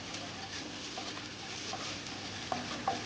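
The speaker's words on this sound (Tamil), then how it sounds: "சின்ன வெங்காயம், பச்சை மிளகாய், கருவேப்பிலை தரம் இது மூணையும் போட்டுங்க நல்லா வணக்கணுங்க" Small shallots, green chillies and curry leaves sautéing in a pan give a steady, moderate sizzle, with a couple of sharp utensil knocks near the end.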